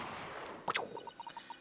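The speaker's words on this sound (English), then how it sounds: "a gunshot rang out from over his shoulder" A single sharp gunshot effect from The Great Ace Attorney 2 video game, a brief crack followed by a quick run of soft, evenly spaced text blips.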